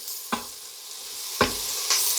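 Onions sizzle steadily in an Instant Pot, a bright crackling hiss, broken by a few sharp scraping clicks of stirring.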